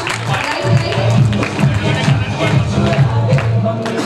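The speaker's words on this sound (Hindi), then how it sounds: "जोरदार ताली अंकल के लिए, उन्होंने डांस किया।" A seated audience at a leadership development workshop in India cheers and claps, a loud, dense crowd roar with mixed voices that holds steady for the whole stretch.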